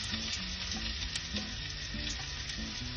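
Sliced onion fries with bay leaf in a pan, giving a soft continuous sizzle with faint crackles, steady and quiet throughout.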